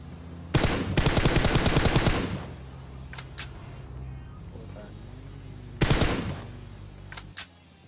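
Gunfire from an AWM sniper rifle and other weapons in a video game, with loud rapid bursts of shots early on, a second burst later, and a few isolated single cracks between them.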